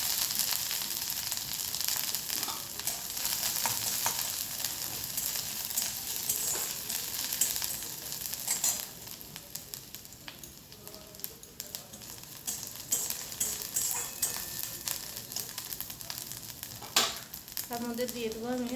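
Chopped ginger frying in a hot pan, a steady broadband sizzle with occasional stirring scrapes, close and continuous throughout.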